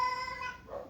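A cat gives one clear, close meow that rises and then trails off, lasting about a second.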